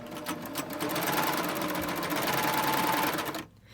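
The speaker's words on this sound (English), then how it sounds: "I'm going to go ahead at this point and just lower my presser foot and start serging." A serger sewing machine stitches fabric in one steady, loud, rapid mechanical whir that runs without a break, then cuts off abruptly near the end.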